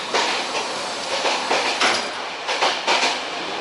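Loud, close roar of a train running between cars on the Sofia to Plovdiv line, a continuous rushing rumble with periodic clattering bursts from the wheels.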